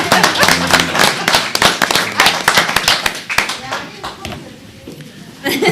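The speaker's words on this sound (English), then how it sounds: "let's give her a round of applause" A small group claps for a retiring county official at a county commission meeting, scattered uneven hand claps with voices talking over them, fading toward the end.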